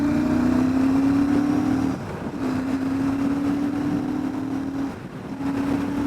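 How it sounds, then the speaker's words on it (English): Royal Enfield Super Meteor 650 motorcycle with a six-speed transmission accelerating hard, a loud rising engine drone cut by two brief gear-change dips, with heavy wind rush over the microphone. "Let's pull this motorcycle quickly."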